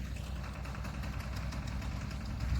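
A tractor engine runs steadily on a farm during a pesticide-spraying and barrel-filling job, giving a continuous close, loud low rumble with slight knocking vibration and no talking.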